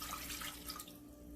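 Apple juice poured into an Instant Pot for pork ribs, a short, steady liquid stream splashing close by, lasting about a second.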